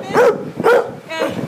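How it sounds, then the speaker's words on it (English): A dog in a shelter kennel gives three loud, close barks in quick succession, each short and sharp, with a slightly whining tone and no talk. "You can't blame her for barking"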